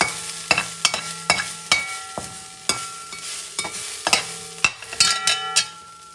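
A chicken wing stew for Puerto Rican alitas guisadas is stirred in a pot, giving repeated scraping and clinking strokes at an irregular rhythm, close and fairly quiet, with no talking.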